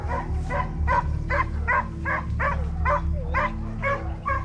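Hunting dogs bay and bark during a chase in France, a steady run of about a dozen loud, evenly spaced barks close by over a low rumbling background.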